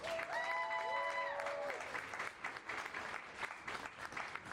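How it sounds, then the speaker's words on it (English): An audience applauds throughout, a dense clatter of clapping hands that swells early, with a tonal musical sting over the first couple of seconds, then thins into scattered claps. "Please give them a big round of applause."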